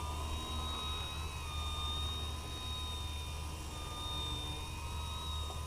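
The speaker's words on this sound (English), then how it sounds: "Once we get it into a hover, we're just going to let the plane roll." An RC 3D aerobatic model plane hovers with its engine running, a steady high-pitched whine holding constant and moderately distant for several seconds with no talk over it.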